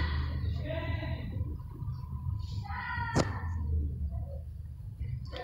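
Several short, high meows from small kittens in the video game Risky Ropes come in separate bursts, close and clear over a low hum, with a sharp click partway through.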